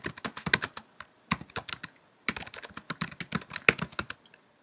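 Rapid bursts of clicky keystrokes on a computer keyboard, close and crisp, come in uneven runs separated by short pauses, with no voices.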